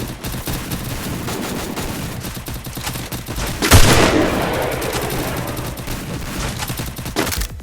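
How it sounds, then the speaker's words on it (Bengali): Free Fire mobile game waiting-lobby audio, dense continuous gunfire and rapid bursts with a loud boom near the middle, followed by sustained action noise with no talking. "এটা হচ্ছে ফ্রি ফায়ার ওয়েটিং লবি"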